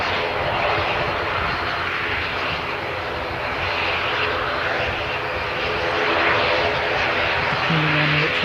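Airliner on Rotorua to Christchurch service rolling out along the runway after landing, a steady loud broadband engine roar sustained throughout with a low tonal hum near the end.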